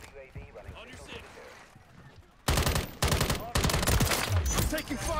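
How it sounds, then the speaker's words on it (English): Call of Duty firefight: after a quieter stretch of voices and game chatter, loud rapid bursts of automatic gunfire break out and keep going, with short gaps between the volleys. "Taking fire."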